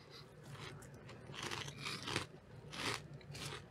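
Someone crunches on crispy pork rinds seasoned with Parmesan and pepper, with several close, dry crackling bites and chews over a few seconds, fairly quiet and with no talking.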